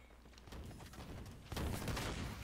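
Rapid gunfire from the video game Halo 5: Guardians crackles in a dense, continuous stream of overlapping shots, growing louder and heavier partway through with no voices over it.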